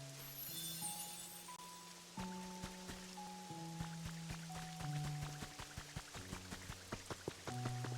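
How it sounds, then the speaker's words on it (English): Steady rain patters on the ground in the Pokopia video game, a soft continuous hiss beneath gentle melodic game music. "I know it's very much raining."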